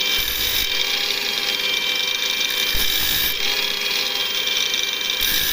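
A loud, continuous high-pitched whine of an angle grinder cutting metal, trimming a bicycle gear cable, steady throughout with brief shifts in pitch as it bites, close by.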